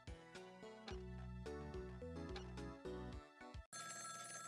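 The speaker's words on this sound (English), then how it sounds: "Phone." A telephone rings in the Ghost Trick: Phantom Detective video game, insistent repeated electronic bell tones pulsing in bursts over music, cutting off abruptly near the end before a brief different tone.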